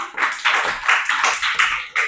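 A classroom of young children claps together in a burst of applause after a fourth-grade Marathi poem activity, with rhythmic, overlapping claps that come in uneven waves for about two seconds and no talking.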